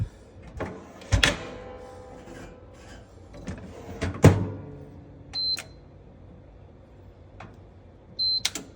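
English muffins loaded into a toaster oven, with close clunks and scrapes of the rack and door, a loud thump partway through and a couple of short high beeps from the appliance.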